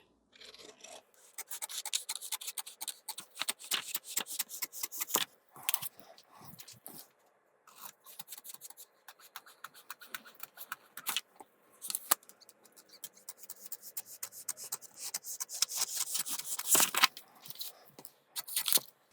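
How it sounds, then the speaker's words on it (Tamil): Scissors cut steadily through blouse fabric along a marked line for a high-neck princess blouse, giving a long run of close, crisp snipping and rasping strokes with short pauses and no talk. "இந்த மார்க் அளவுக்கு கரெக்டாக கட் பண்ணி எடுத்துக்கணும்"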